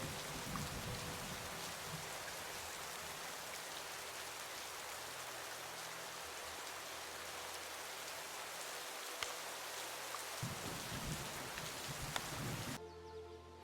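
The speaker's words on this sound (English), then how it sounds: "They let the rain soak their pelts." Steady, dense video game rainfall hisses continuously, heavy and close, with occasional sharper drops and taps, ending abruptly.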